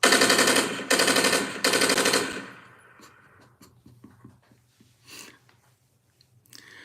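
Three loud bursts of rapid gunfire in quick succession, then a scatter of small clicks and rattles fading into quiet.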